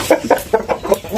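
Shamo gamecocks on a farm give a string of short, close, loud clucks in a quick uneven rhythm, about five or six calls in a little over a second, with no talking.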